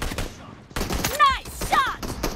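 Gunfire in the battle royale game BGMI, a few sharp shots in quick succession with ringing tails, heard close over game background noise and some voice chatter.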